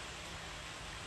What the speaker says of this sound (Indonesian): Ini gerimis nih teman-teman.